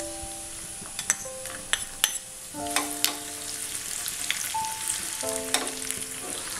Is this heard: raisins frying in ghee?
yes